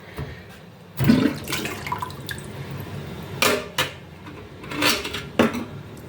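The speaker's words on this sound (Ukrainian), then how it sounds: "Зараз буду вже випускати воду." Water gurgles and drains in several short rushes, with faint clinks and drips between the bursts.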